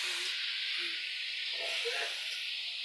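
About a kilo of meat goes into a pan of fried spice paste, setting off a steady, bright sizzling hiss that fills the moment with no talking.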